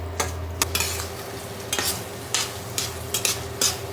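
Food frying in a pan over a strong heat source, with a steady sizzle and repeated scraping stirs at an uneven rhythm, close and alone.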